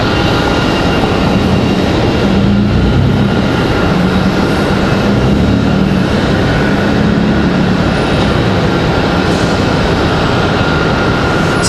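A Republic Airways jet arrives at Raleigh-Durham airport, a loud broad steady roar of engine noise holding for several seconds, with no talk.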